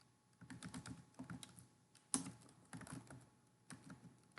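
Someone types router configuration commands on a computer keyboard in short bursts of quick keystrokes separated by pauses, close and fairly quiet.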